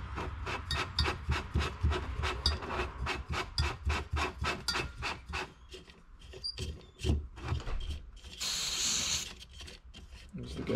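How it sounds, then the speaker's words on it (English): A new Thermacell repellent canister is opened by hand, giving a series of quick rhythmic scraping and twisting rasps followed by a short burst of hissing gas near the end, close and fairly quiet, with no speech. "Okay, so we'll open up our new canister."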